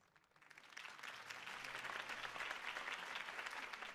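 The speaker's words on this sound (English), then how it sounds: "If only Mr. Wayne, my campaign's largest backer, could have heard that applause" Crowd applause after a campaign speech in the Batman Telltale video game, a steady wash of clapping that swells in over the first second and holds at moderate level, somewhat distant and without speech.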